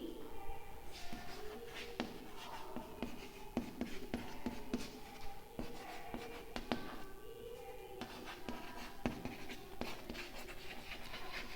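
Chalk or marker scratches and taps steadily across a board in a physics lecture, a continuous run of faint strokes with a quiet voice speaking underneath throughout.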